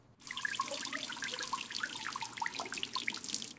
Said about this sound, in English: Before we cook, we must wash our hands. It's very important. I am using soap.